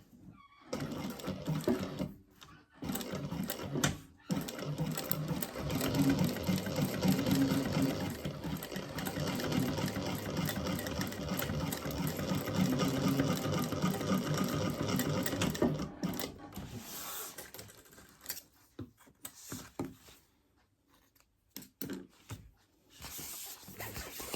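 A sewing machine runs steadily, stitching the first seam of a Kiki crossbody bag: a close, continuous whirring burst for about fifteen seconds, followed by short stop-start runs and pauses.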